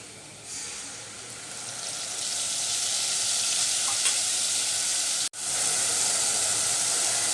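Chillies frying in a pan give off a loud, steady sizzling hiss that swells after a quieter start, with a brief dropout before the sizzle resumes at full strength.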